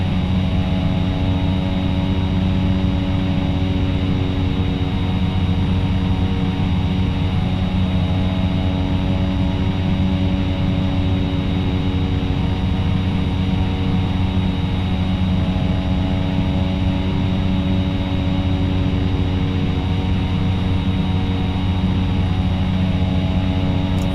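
Steady, loud drone of a Carenado C208 Caravan's turboprop engine in flight in X-Plane 11, a constant low rumble with a layered tonal hum and propeller buzz, unchanging throughout.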